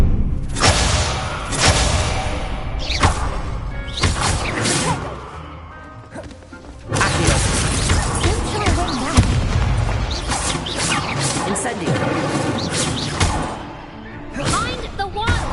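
An Incendio fire spell is cast in the Hogwarts Legacy video game, bursting as loud booms and crashing blasts in rapid clusters amid other combat impacts, with voices heard over the fight.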